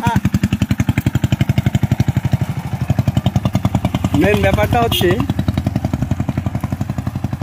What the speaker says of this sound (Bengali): এই যে ইঞ্জিনটা নর্মাল সাউন্ড নেই